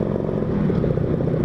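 A two-stroke motorcycle engine with a modified exhaust, 2 mm versus 2.5 mm ram holes, drones steadily at high revs, close and loud throughout with no talk.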